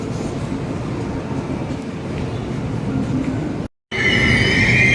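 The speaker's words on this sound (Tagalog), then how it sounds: "mag-aantay na ulit tayo ng train pabalik" A train arriving at a station in the Philippines, rumbling steadily close by with rail noise, then a short cut after which a high wheel squeal sets in.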